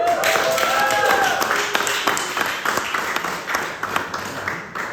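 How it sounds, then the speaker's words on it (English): Audience applause at an art talk at an exhibition venue, a scattered round of clapping from a modest crowd that rises, then thins out, with a few voices murmuring underneath. "So let's have a round of applause for Eva Petric."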